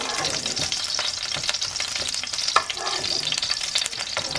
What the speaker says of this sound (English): we're going to let the tomato and the chile cook